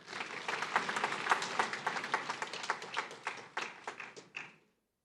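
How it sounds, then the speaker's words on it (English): Crowd applause at a Lake Chad Basin governors' forum in Maiduguri, a dense burst of many hands clapping that thins into scattered claps and stops abruptly near the end, with no talk over it. "Another round of applause for him"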